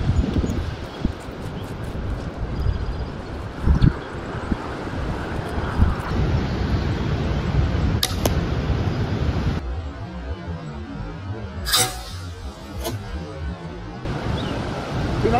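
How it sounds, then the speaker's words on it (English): Strong gusting wind, around 30 to 40 mph, buffets an outdoor microphone while a crossbow is set up for a turkey arrow test; loud broadband rumble runs throughout with surges and brief sharp clicks, and no one speaks. "Wind's gusting 30, 40 miles an hour,"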